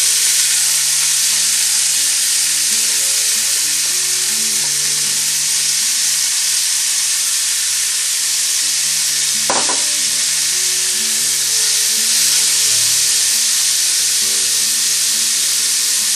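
Chopped onion and bell pepper frying in hot oil in a pot on full heat, a loud continuous sizzle with steady stirring scrapes, close up and without talk.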